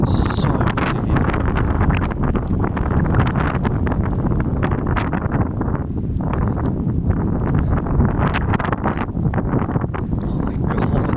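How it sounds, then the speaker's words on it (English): Strong wind batters the microphone in an exposed open field, a loud, constant roaring rush with gusting buffets throughout, no other sounds standing out. "Bloody hell, it's so windy here."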